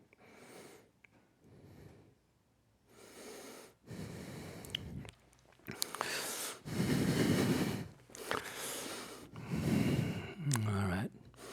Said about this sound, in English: Inhale and exhaling through the nose.